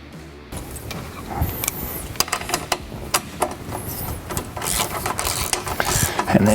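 Winch bolts coated in blue Loctite are run up through a mounting plate on a Motobilt Crusher front bumper for a Warn VR EVO10-S winch, giving repeated close ratcheting clicks and metallic taps in uneven bursts, with no talking.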